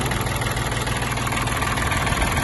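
A Mitsubishi MT-20 mini tractor's three-cylinder diesel engine idles close by, a steady, even rumble with light vibration and no other sounds.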